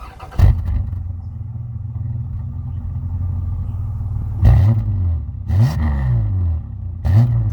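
A Holden VP Commodore idles with a deep rumble through its newly replaced exhaust, then is blipped in several sharp revs that rise and fall, loud and close.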